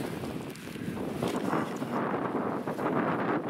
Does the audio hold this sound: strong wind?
yes